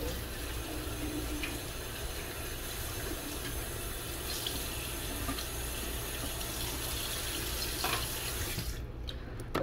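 Hot water pours steadily from a tap or kettle into a mug to make a latte, a continuous close rushing hiss that runs for several seconds before stopping abruptly.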